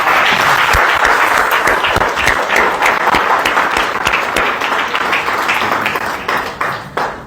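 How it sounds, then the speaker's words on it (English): An indoor audience at a charity AGM claps for the Jigsaw4u trustees, a dense, loud, sustained round of applause that holds for several seconds before starting to thin and fade at the end. "please can we give them a round of applause"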